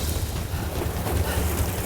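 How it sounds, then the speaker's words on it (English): Strong wind buffets the microphone with a constant roar while waves surge around a small boat out at sea, loud and continuous throughout. "The wind is pushing me all over the place."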